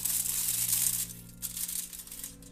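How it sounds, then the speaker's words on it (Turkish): Aluminium foil crinkles and rustles steadily as a pepper is unwrapped from it, close up, a soft papery crackle with a few sharper tearing bursts and no talking. "Biberi folyo içerisinden çıkarıp mum ateşi üzerinde tutun"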